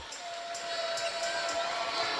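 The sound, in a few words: volleyball crowd cheering and applauding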